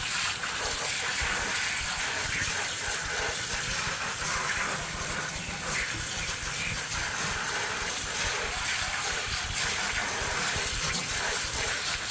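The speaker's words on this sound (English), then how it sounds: "all I'm going to do is simply rinse these off" Warm water gushes steadily from a parts-washer spigot into a sump, rinsing freshly cleaned parts; a continuous, loud, broadband rush with no pauses, heard close up and alone.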